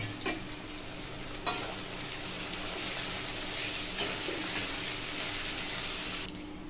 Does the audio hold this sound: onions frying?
yes